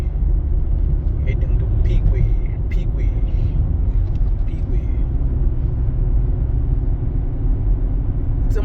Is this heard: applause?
no